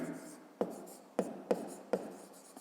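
Pen strokes writing numbers by hand on paper, four short distinct scratches spaced about half a second apart in a quiet room, no talking.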